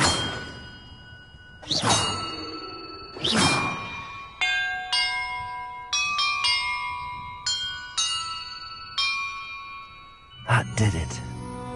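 Bells are struck one after another in a video game puzzle, about a dozen clear metallic chimes of varying pitch ringing out and overlapping, with a few heavier clangs and swooshes at the start and end.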